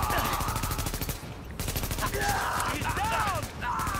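Dense automatic gunfire from a firefight in The Division video game, continuous and loud, with brief lulls and game sound effects, while a voice shouts over the shooting.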